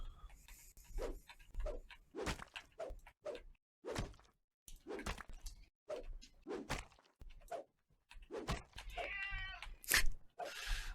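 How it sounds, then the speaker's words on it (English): A house cat meows repeatedly at close range, several distinct calls scattered among thumps and quiet background noise, with a longer, wavering meow near the end. "I don't know if her meow came through, but I'm going to say probably."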